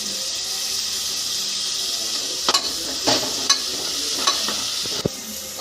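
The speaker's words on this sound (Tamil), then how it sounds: "தக்காளி பாருங்கள் நல்லா ஃப்ரை ஆகிடுச்சு" Tomato paste fries with onion and ginger-garlic paste for a spicy chicken gravy, a steady close sizzle with scattered spoon scrapes and taps in the second half.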